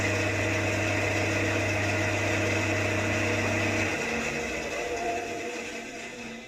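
A Scheppach HBS250 bandsaw running without a shop vac attached, giving a steady, fairly quiet motor hum that holds for about four seconds, then drops in pitch and fades as it winds down. No one speaks.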